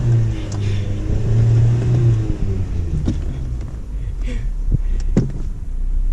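A Silverado pickup truck's engine is given gas after the clutch is pulled back into gear, with a low rumbling drone that rises somewhat close by, while people talk over it.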